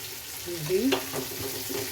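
Chicken sukka fries in oil in a pan with a soft, steady sizzle and a quick stir scrape midway, heard close up with no talk.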